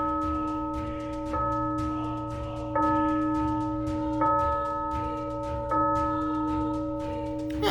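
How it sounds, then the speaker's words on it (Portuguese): A church bell rings in slow, evenly spaced strokes, each bright tone lingering and overlapping the next, with a faint low background hum. "Maria Benedita acordou com o som do sino da igreja, que chamava a todos os seus fiéis para a missa"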